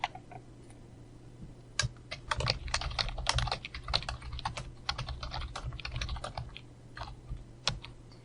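Python code being typed on a computer keyboard, quick irregular bursts of key clicks, close and fairly quiet, with short pauses between runs.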